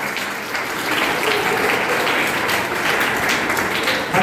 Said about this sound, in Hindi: एक बार जोरदार तालियां हर्षित पाल।